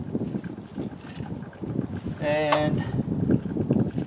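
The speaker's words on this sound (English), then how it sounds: "I can hear it starting to suck air now." A Ford F-150 power steering pump sucking air during a fluid change, heard as a short groaning, whining gurgle in the middle of the clip over a steady low rumble, with a brief word spoken nearby.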